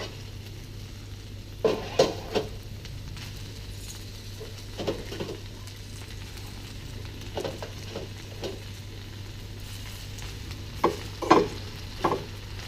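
Baby spinach wilting in ghee in a pan over high heat, a faint steady sizzle under a low hum, broken by a few scattered utensil scrapes and clinks, some in quick clusters, with no talking.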